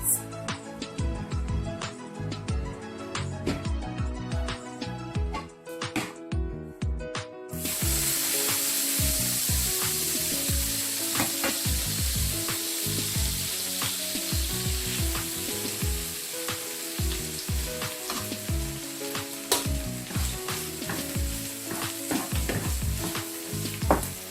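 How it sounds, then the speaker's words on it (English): Rice fries in a pan for Nigerian fried rice, loud crackling sizzle with repeated scraping and stirring strokes, quieter at first and then a sustained hiss that runs steadily to the end. "Now it's time to fry the rice. Let's fry it."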